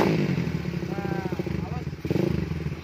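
Honda Sonic 125 motorcycle fitted with a DBS racing exhaust revs hard in a series of throaty bursts, loud and close, with a voice speaking briefly over the engine.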